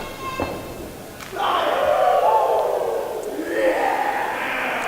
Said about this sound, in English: Just chopping away at Brandon Scott.